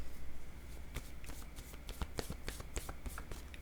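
A deck of oracle cards is shuffled up close, a run of quick papery riffles and flicks with irregular taps, fairly quiet and with no voices.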